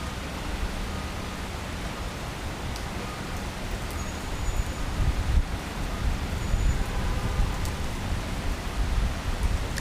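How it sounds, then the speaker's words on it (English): Rain falls at Dallas Love Field airport as a steady broadband hiss and patter, fairly loud and constant, swelling slightly toward the end, with no voices. "So it is raining here at Dallas Love Field"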